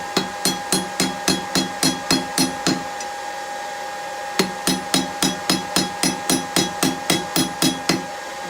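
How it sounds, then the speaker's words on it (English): Ball peen hammer striking hot steel on an anvil while forging a BBQ toasting fork, a fast, ringing series of about twelve blows, a short pause, then another brisk run of evenly spaced strikes. "I don't have one, so I'm just going to use the ball pen."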